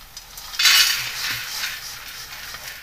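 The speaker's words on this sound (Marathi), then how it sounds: "आता आपण एका प्लेटमध्ये काढून घेऊ मस्त।" Roasted salted sunflower seeds are poured and scraped from a pan onto a plate, a close burst of rattling, clinking scrapes that fades into a softer rustle with no talking.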